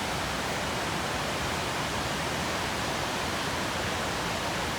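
Waterfall roaring beside a hiking trail, a steady, dense rushing wash of water that fills the whole stretch evenly without pause.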